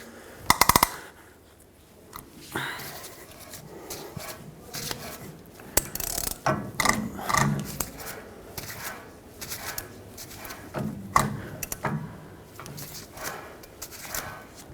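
A ratchet tightens the rear wheel hub nut on a 2011-2016 Ford F-350, irregular clicking pawl ticks and metallic clinks close by, in uneven bursts with handling noise between.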